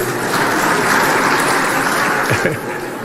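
Audience applause at a political gathering, a loud, dense, continuous wash of clapping that holds steady throughout, with no clear voices.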